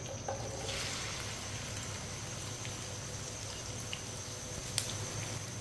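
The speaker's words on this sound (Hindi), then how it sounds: "भिंडी को 1 मिनट के लिए फ्राई कर लेंगे।" Cut okra (bhindi) fries in a pan over a fairly high flame, giving a steady, even sizzle close by with no talk.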